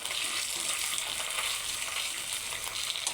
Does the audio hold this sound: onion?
yes